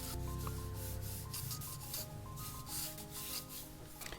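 A pencil lightly sketches lines on paper, making a soft, continuous scratchy rubbing of repeated strokes. It is quiet and close, with nothing else around it.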